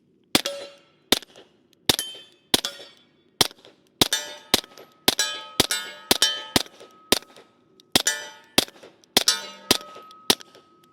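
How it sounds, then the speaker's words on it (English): Suppressed gunshots through a Lunar 9 Gemtec suppressor, each followed by a ringing clang of steel targets: about fifteen sharp, loud reports fired in uneven bursts with short pauses, no talking. "let's go ahead and take a few more shots and see if I can actually get this trigger to run halfway decent"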